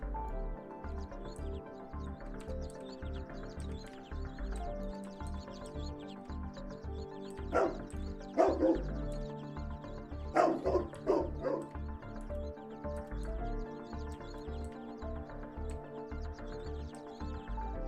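A dog barks repeatedly within the soundscape of the Trainz train simulator game, with short clustered barks over a steady rhythmic mechanical background loop, fairly prominent and without talk.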